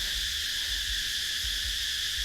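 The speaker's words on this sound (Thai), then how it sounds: "จักจั่นแบบนี้เนาะจักจั่นหลาย" Cicadas calling in a forest in southern Laos, a continuous shrill, even drone that stays steady throughout, with faint low rumbling beneath and no talking.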